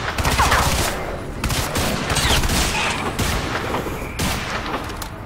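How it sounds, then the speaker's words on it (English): Gunfire in the video game Crysis 3 during an assault, dense bursts of rapid shots and booms in quick succession, loud and close without pause. "Who is shooting at me?"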